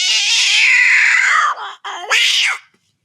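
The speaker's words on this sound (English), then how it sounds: "Have you heard the cat noise?" A recorded cat yowl plays from a speaker: a long, loud drawn-out caterwaul that drops in pitch, breaks off briefly, then ends with a shorter rising cry.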